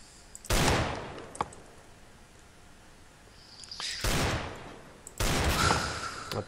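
Gunfire from the video game Counter-Strike: Global Offensive comes as three loud bursts of rapid automatic fire separated by quieter gaps, with a single sharp shot in between. There is no talking.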